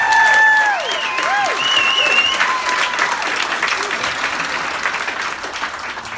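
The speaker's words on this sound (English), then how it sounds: "you can get another round of applause there" A crowd gives sustained, loud applause after a flute performance, with a few fading high tonal notes at the start that give way to steady, even clapping.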